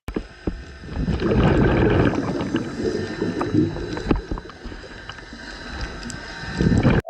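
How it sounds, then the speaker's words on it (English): A steady underwater buzz of a motorboat passing overhead hums throughout, heard during a dive, muffled and continuous, with bubbly gurgles and occasional clicks around it; no one speaks. "That buzzing sound is another boat above me."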